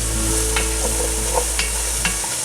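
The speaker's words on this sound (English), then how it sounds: "now we're gonna add in our onion that we diced up" Diced onion frying in a pot for a one-pot comfort-food dinner: steady, loud sizzling with a few soft scrapes and stirring clicks over the top.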